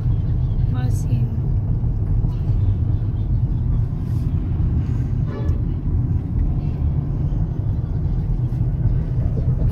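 A car drives through Bohol, giving a steady, close low rumble of engine and road noise with faint voices in the cabin throughout.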